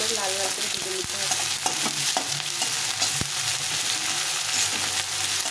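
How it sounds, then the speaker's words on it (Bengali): Onion and garlic frying in a pan, a steady close sizzle with occasional clinks and scrapes of stirring, continuous and fairly loud throughout. "দিয়ে পেঁয়াজটাকে ভালো করে লাল লাল করে ভেজে নিতে হবে।"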